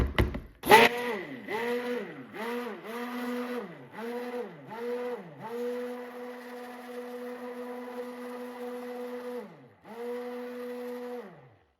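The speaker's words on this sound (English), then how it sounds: "I'm gonna come in with the immersion blender and just get those incorporated." An immersion blender whirs in repeated short bursts, pitch dipping and rising with each pulse, then settles into a longer steady run while mixing eucalyptus mint soap batter, close up with no talking.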